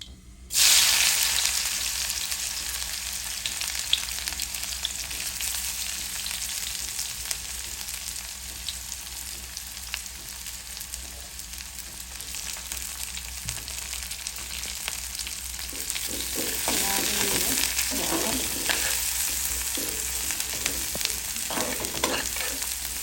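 Onions sizzle loudly in a hot pan with panch phoron for a Bengali cabbage fry, a dense continuous frying hiss with occasional stirring, no talk.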